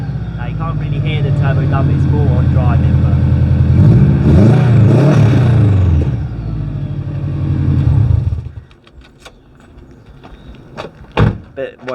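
A highly modified Subaru engine revs hard while driving, a loud sustained rising drone with a throbbing rumble that swells, peaks, then drops away to quieter road noise with a few brief knocks.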